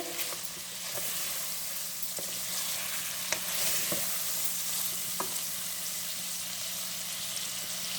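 Chicken pieces fry in hot oil for a pepper fry, giving a continuous soft sizzle with occasional clinks and scrapes of stirring in the pan, close and steady throughout with no talking.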